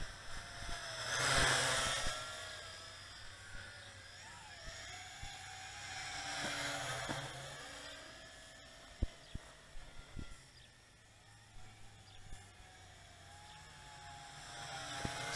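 A Yi Zhan Tarantula X6 quadcopter drone flying at about 40% throttle gives a fluctuating rotor whine that swells loudly as it passes close, fades and returns, with a few sharp knocks in between.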